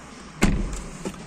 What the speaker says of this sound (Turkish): Şöyle kapıyı kapatalım.